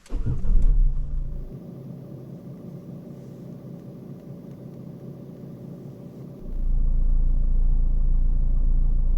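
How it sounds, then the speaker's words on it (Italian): A car engine starts with a brief loud crank and catch, then settles into a low, steady idle rumble that deepens and grows louder near the end, with no talking. "Quindi accendiamo l'auto."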